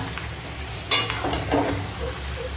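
Mutton coated in ginger, garlic, onion, yogurt and spices fries in a pan with a steady close sizzle, broken by a few scraping stirs of a spoon.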